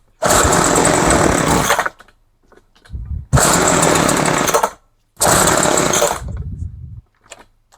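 A small two-stroke gas hedge trimmer engine runs on half choke in three loud, buzzing bursts of roughly two seconds each, separated by near-silent gaps, with some sputtering as it tails off.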